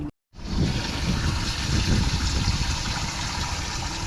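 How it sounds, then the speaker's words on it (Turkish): A boat's live well pump running, water gushing and splashing in a steady, continuous rush close by after a brief silent gap, with no talk. "Şu an canlı livarımızı deniyoruz."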